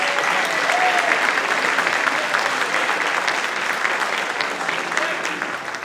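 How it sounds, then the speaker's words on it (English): Loud, sustained applause from a large audience at a senior fashion show, dense and even throughout, thanking the show's photographers, with no talking over it. "Please give them a second round of applause for all their hard work to making the show a success."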